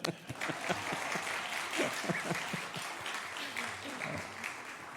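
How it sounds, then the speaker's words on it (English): Congregation applause during a Sunday service at a Unitarian church, a steady wash of many hands clapping that fills the room for the whole stretch, with a few louder individual claps near the start. "So this is where we should be applauding."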